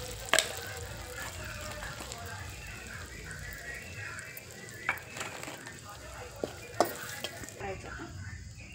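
Spices and salt frying in oil in a wok for a fish curry, a soft, low sizzle running throughout with a few sharp clinks and scrapes scattered across it, quiet and outdoors-sounding, with faint voice in the background.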